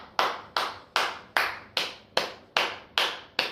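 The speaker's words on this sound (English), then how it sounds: "Let me give a round of applause to Detroit fans." Nine evenly spaced hand claps sound close and crisp at a steady rhythm, one person clapping alone with no crowd.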